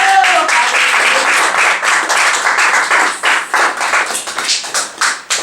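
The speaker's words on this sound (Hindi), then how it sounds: "थोड़ा सा तालियां बजा देते हैं पिता को" A church congregation claps for the Father during a Hindi sermon, loud, dense clapping with individual sharp taps standing out, rising together and trailing off into scattered claps near the end.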